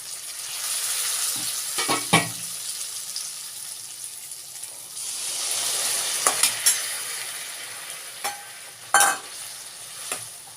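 Chana dal frying in a pan over a medium flame for methi sabzi, a steady close sizzle broken by several sharp stirring scrapes and clinks, with no talking.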